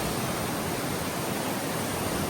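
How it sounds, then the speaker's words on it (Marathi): Dense, unbroken roar of rushing water, like a waterfall up close, steady and broadband with no other sounds. "धबधबा बघू शकता तुम्ही, काय पाणी प्रेशर बघा."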